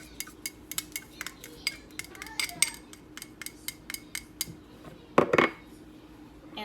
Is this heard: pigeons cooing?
no